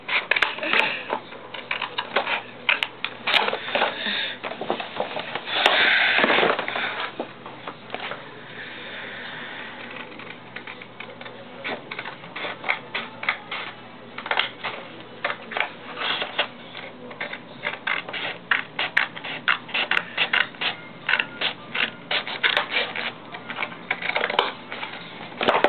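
Scissors snip and crunch repeatedly through stiff hardened paper while trimming along a drawn outline, with uneven clusters of sharp close clicks and crackles and a few short pauses.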